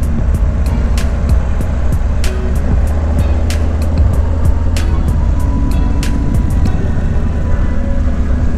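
A vehicle drives along the winding road from Groveland to Coulterville. The engine and road rumble stay steady and loud throughout, with repeated sharp ticks and clatter over it and no clear gear shift.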